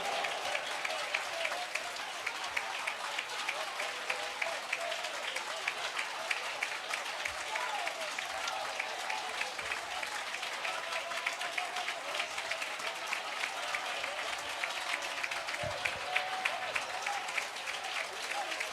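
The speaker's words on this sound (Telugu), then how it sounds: "గట్టిగా చప్పట్లు కొడుతూ" A crowd at a Christian seminar in Rajahmundry claps loudly and continuously, a dense, even roar of applause that runs throughout with a voice faintly audible beneath it.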